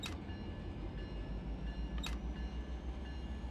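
Freight train locomotive in Run8 Train Simulator, a low steady rumbling drone with two sharp clicks, one at the start and another about two seconds in.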